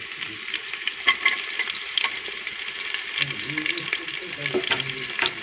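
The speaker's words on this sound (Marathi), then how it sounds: "आणि कांदा थोडासा परतून घ्यायचा आहे." Vertically sliced onion fries in hot oil with bay leaf in a pan, giving a continuous close sizzle with faint stirring scrapes throughout.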